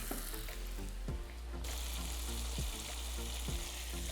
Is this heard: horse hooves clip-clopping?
no